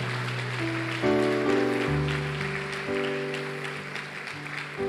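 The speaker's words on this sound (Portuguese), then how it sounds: "Bate palmas para Jesus, porque é impressionante." Congregation clapping in a church, a steady wash of applause under sustained organ or keyboard chords, moderately loud and continuous.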